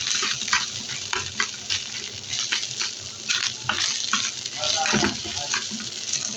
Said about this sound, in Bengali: এই যে আমার ডিমটা ভাজা হচ্ছে,